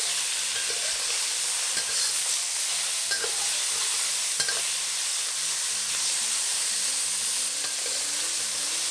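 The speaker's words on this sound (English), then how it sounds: "Fry them till most of it becomes white." Pork belly pieces sizzle loudly in a pan over medium-high heat, frying in their own rendered fat with no oil added. A dense, continuous hiss and crackle fills the clip, with faint stirring clicks and no speech.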